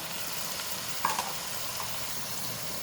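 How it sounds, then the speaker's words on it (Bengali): Beef is tipped into a pan of fried spices and sets off a steady sizzle, with a brief clatter and spatter as it lands. "এখন আমি মাংসগুলো ঢেলে দিলাম"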